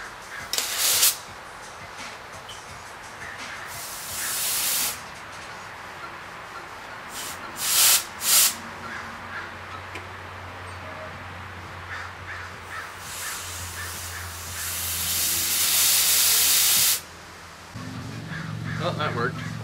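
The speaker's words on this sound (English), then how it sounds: "I'm just gonna blow some air into the lines." Compressed air blasts into the rear disc brake lines of a 1994 Toyota 4Runner during a 3.4L engine swap, in several sharp hissing bursts of varying length, the longest near the end, with brief low talk between them.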